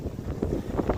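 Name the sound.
wind at sea while sailing a catamaran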